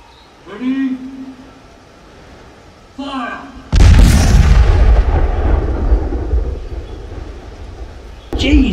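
A cannon loaded with gunpowder and fired by pulling a cable goes off in a huge, close boom that rumbles and decays over several seconds, after people speak briefly, with another voice starting at the end.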